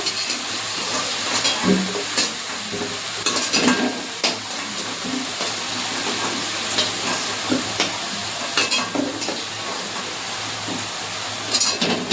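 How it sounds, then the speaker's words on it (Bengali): Potatoes fry in hot oil with a constant close sizzle, punctuated by scattered stirring scrapes and soft clatters throughout. "আলুটা ভাজা হয়ে গেছে তুলে নেবো"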